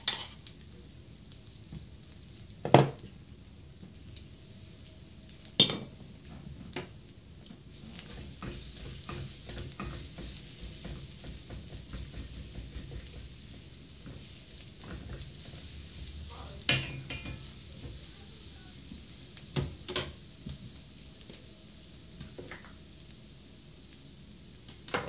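Garlic frying in hot oil, a steady soft sizzle with occasional sharp clinks and stirring scrapes from a pan, no voices.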